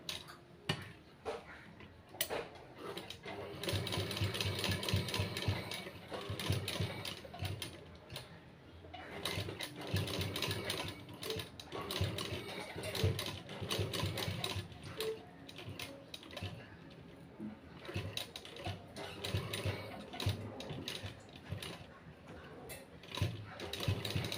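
A sewing machine stitches a kalash saree in a fast, steady mechanical clatter that runs nearly unbroken and close throughout, with brief pauses and faint background noise.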